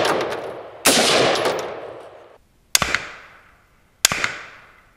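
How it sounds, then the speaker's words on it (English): Two loud rifle shots from a .223 AR-15 fired outdoors at a football helmet, each a sharp crack followed by a long rolling echo, preceded by an earlier blast that decays slowly. "that was two shots with the 223"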